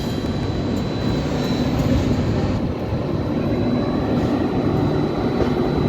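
A diesel locomotive idles at Ajmer railway station, a loud, steady, deep engine rumble with station noise, continuous throughout and without talk.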